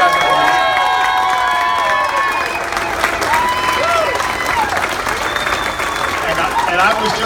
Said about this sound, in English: the people that are here supporting Collin, I want to hear you guys give these guys a great round of applause